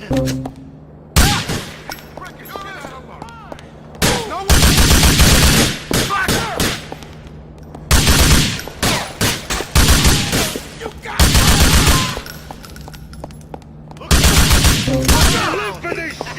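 Gunfire in Grand Theft Auto IV: loud, repeated bursts of rapid automatic fire alternate with brief lulls, each volley lasting a second or two, with voices heard faintly between the shots.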